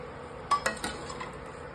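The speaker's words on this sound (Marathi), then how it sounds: "याच्यामध्ये आता ही तळलेली भेंडी टाकत आहे" Fried okra tipped and stirred into cooked masala in a pan, giving three quick clinks and scrapes in close succession, then a soft settling shuffle of vegetables.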